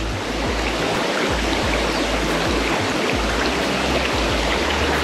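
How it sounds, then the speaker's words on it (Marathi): Clear stream water rushes steadily at Chinchoti waterfall, a dense, continuous broadband wash with small gurgles and splashes, close and loud throughout with no talking. "वाहतं पाणी घेतोय"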